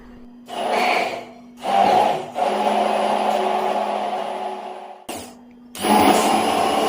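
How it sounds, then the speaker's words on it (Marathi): A blender motor on turbo mode whirs loudly in several bursts while making juice, with a long continuous run and short pauses between, and no talking. "मी पुन्हा आता टर्बो मोडमध्ये हे ज्यूस बनवून घेत आहे"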